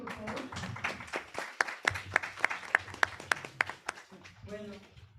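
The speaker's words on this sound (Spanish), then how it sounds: "Un aplauso, por favor." Audience applause at a public-security conference: a burst of steady clapping with sharp individual claps, starting under a voice and continuing fairly close, with speech resuming at the end.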